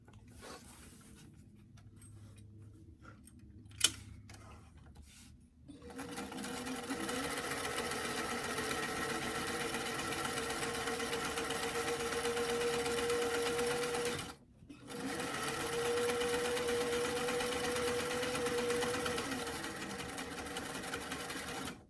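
A sewing machine stitches a doll dress seam in a steady, close, continuous hum, starting after a few quiet clicks and pausing briefly once before running on.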